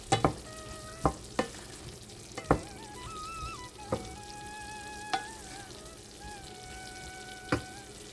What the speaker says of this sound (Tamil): இது உப்பு போட்டு வதக்கியாச்சு.